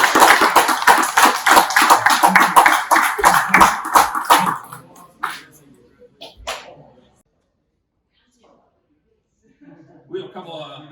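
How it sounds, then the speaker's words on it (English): Dense, continuous applause from a crowd for several seconds, then fading into scattered claps, a brief pause, and quiet voices at the end. "Let's give a final round of applause for Coach Kaler, Coach White"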